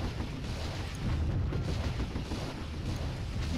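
Heavy machine gun tanks firing in Warzone 2100, a dense continuous rumble of rapid booming shots and blasts blending into a steady roar, loud and uninterrupted with no talking.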